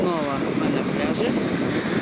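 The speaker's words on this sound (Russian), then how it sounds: "Сегодня ветер." Wind buffets across an open beach in a dense, constant rush with low rumbling gusts, loud and close to the microphone, with no speech.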